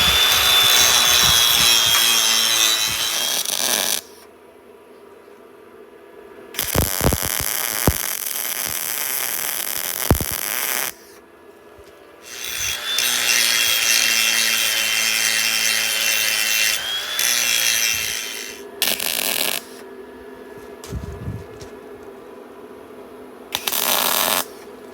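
A bench or angle grinder works on a cast iron part from an International 430 small square baler, throwing few sparks; loud abrasive grinding comes in several bursts separated by short pauses, with no talking.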